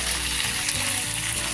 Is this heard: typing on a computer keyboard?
no